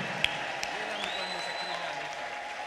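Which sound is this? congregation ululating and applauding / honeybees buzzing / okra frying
congregation ululating and applauding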